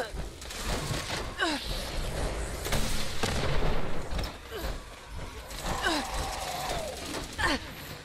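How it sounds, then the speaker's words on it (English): Rockets fire and explode in the video game Fallout 76, loud booming blasts and bursts of gunfire repeating across the clip over a busy combat background, with a voice talking faintly underneath. "Hit him with rockets this time."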